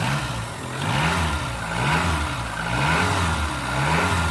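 A car engine fitted with a cone air filter revs repeatedly in slow, swelling waves, rising and falling about once a second, loud and close with no voices.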